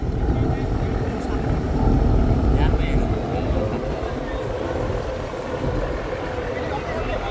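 Two passenger launches race side by side on the Meghna river after the Charmonai gathering, their heavy diesel engines droning loud and steady with deep rumble and water wash, under a busy crowd murmur.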